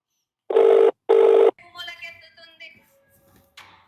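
A phone rings with an incoming call, two loud, close, evenly spaced electronic rings each about half a second long, followed by someone speaking.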